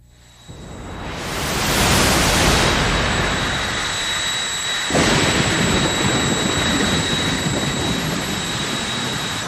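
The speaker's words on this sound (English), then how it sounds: "We've got the Jet Dragsters coming up next." A jet dragster engine roars loudly at a drag race, surging up to a broad, rushing blast that holds steady, with a brief dip midway before roaring on.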